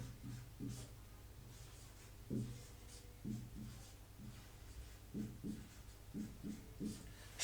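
Writing on a board during a classroom lesson: clusters of short tapping and knocking strokes in uneven bursts, moderately close over faint room noise.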